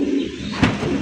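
A fancy Raj Golla pigeon gives a short, soft coo, close by, over a steady low background murmur.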